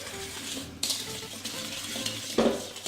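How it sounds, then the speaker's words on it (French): Chocolate chip cookie dough being mixed by hand in a bowl with a whisk or wooden spoon, soft close scraping and stirring with a few light knocks against the bowl, no voices. "vous prenez votre fouet ou votre cuillère en bois, vous mélangez."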